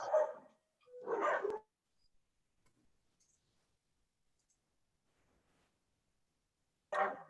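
Two short dog barks come close together at the start, followed by a long quiet gap and then one more bark.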